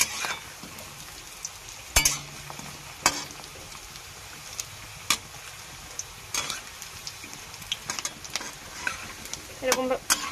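Fish roe fritters fry in a pan with a soft, continuous sizzle, broken by sharp clinks and scrapes of a utensil against the pan as the fritters are turned and pressed.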